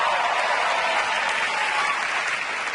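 Steady, dense audience applause from a crowd at a comedy talk, a continuous loud wash of clapping with no voices heard.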